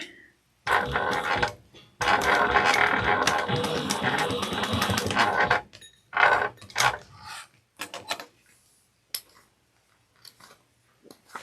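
A sewing machine backstitches to baste down part of a sling bag, whirring in a couple of sustained runs before breaking into short stop-start bursts and clicks that trail into quiet.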